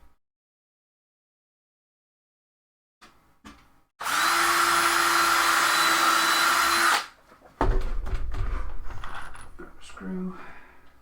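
A power drill drives screws into a wooden bird cage stand: after a few faint handling knocks, a loud steady motor whir runs about three seconds, stops, then a second rougher burst of drilling follows with grinding as the screw bites.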